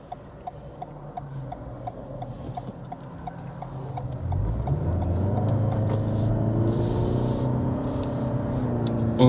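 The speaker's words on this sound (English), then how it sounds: "There is some road noise here because the road here is crappy and whatnot" Road noise inside a 2021 Toyota Avalon Hybrid XSE driving over a rough, poor road surface: a steady low rumble that grows louder about halfway through, with faint ticking clicks on top and no talk.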